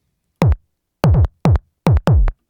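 An industrial-style kick drum built in Native Instruments Massive hits five times in an uneven pattern, each a punchy, distorted thud with a short tail, loud and isolated against silence.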